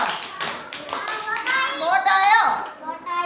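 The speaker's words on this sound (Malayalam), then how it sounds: "ഇനി എല്ലാവരും ഒന്ന് കൈയടിച്ചേ." Children clap their hands together during a paper boat craft session, a run of quick sharp claps mixed with excited kids' voices and chatter close by.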